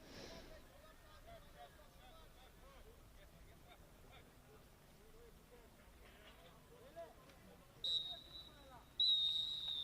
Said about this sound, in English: there goes the final whistle, bringing to an end this clash